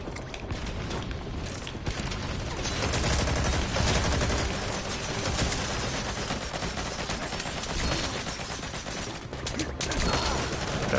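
Bursts of gunfire fill a Metal Gear Online match, dense overlapping shots and automatic fire running continuously at close range over a busy game soundscape.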